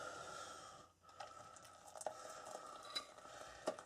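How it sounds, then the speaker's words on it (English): Boiling water from a kettle pours into a bowl for making ginger beer, giving a quiet, steady splashing hiss that is broken by a brief pause and a few small clinks. "I'm going to pour in some boiling water"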